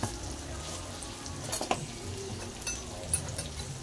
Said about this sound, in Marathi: चांगलं परतून घेऊ टोमॅटो. टोमॅटो परतले